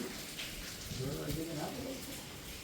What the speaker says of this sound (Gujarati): તો 1:30 વાગી ગયો અને વરસાદ પડ્યો.